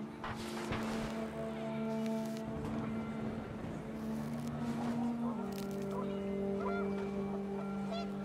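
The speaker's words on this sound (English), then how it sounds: "The wind picked up, and panicked geese appeared and quickly went." Panicked geese in the video game What Remains of Edith Finch, honking calls over wind and a low steady drone, with clustered squawks early on and sustained tonal notes later, moderately close.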